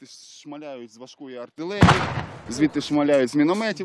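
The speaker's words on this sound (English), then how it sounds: "Now you can see for yourself how they shell us." One heavy artillery shell bursts on the front line in east Ukraine, a sudden loud boom in the middle of steady nearby talking.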